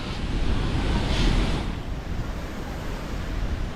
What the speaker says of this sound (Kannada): ಎರಡು ಗೇಟ್ನ ಓಪನ್ ಮಾಡಿದರೆ ನೀರು ಯಾವ ರೀತಿ ಹೋಗ್ತಾ ಇದೆ ತೋರಿಸ್ತೀನಿ